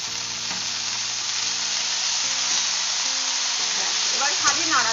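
Chopped fenugreek greens tossed into a pan with lightly fried peas sizzle in hot oil, a broad steady frying hiss with a brief stirring clatter near the end.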